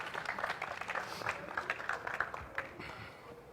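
Audience applause for a presenter named Thomas at the ibtm world conference, fairly faint and scattered clapping that thins out toward the end, with a little chatter beneath it.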